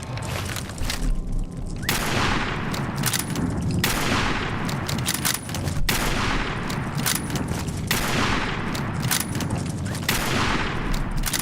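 Heavy gunfire from a large weapon in a video game, repeated booming shots arriving in regular bursts about every two seconds, loud and close, each one trailing off before the next.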